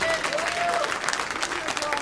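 Worshipping congregation clapping during a French-language praise service, a loud, continuous crackle of many hands with voices and a few sung tones running underneath.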